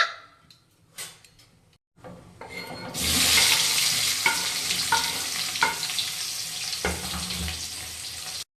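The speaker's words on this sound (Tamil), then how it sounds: "இப்போ மஸ்டர்ட் நல்லா வெடிணும்" After a few quiet clinks, mustard seeds splutter in hot oil in a cooking pan, a dense crackling hiss scattered with sharp pops.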